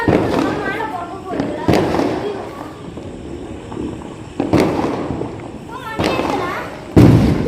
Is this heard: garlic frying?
no